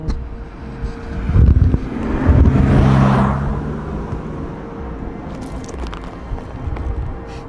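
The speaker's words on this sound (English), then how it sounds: "Let this car pass." A car on a forest road at night rolls past with a rising then fading whoosh, peaking near the middle and trailing off into quiet outdoor hiss.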